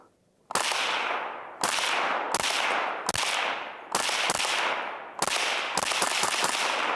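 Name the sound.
FN PS90 firing FN 40 grain VMAX with Silencer Co. Octane 45 suppressor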